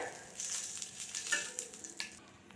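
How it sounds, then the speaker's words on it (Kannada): Slit green chillies fry in hot oil for a village-style chutney, giving a soft, continuous sizzle with brief crackles and stirring scrapes, faint and close. "ಈ ರೀತಿ ಎಣ್ಣೆಯಲ್ಲಿ ಚೆನ್ನಾಗಿ ಫ್ರೈ ಮಾಡ್ಕೊಳ್ಳೋದ್ರಿಂದ ಖಾರ ಬಿಟ್ಕೊಳ್ಳುತ್ತೆ"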